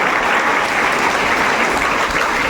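Dense, steady applause fills a packed college auditorium, many hands clapping loudly and continuously without a break.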